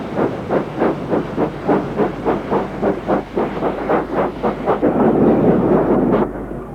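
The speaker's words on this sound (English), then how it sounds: "This is Thompson B1 460 locomotive number 61044, leaving Sheffield Victoria Station." A Thompson B1 class 4-6-0 steam locomotive, number 61044, pulls out of Sheffield Victoria Station with a loud, regular chuff of exhaust beats that quicken slightly and merge into a continuous roar toward the end.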